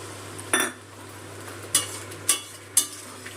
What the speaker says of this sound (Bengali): গরম জলটা মিশিয়ে নেবো মশলার সাথে।